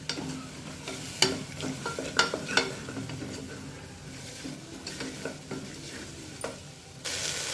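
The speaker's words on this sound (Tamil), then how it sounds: "காயெல்லாம் நல்லா வதங்கிட்டுருக்கு." Vegetables for upma sauté in a pan under a low, steady sizzle, with sharp scrapes and taps of a stirring spoon coming in scattered bursts, close by and quiet, with no talking.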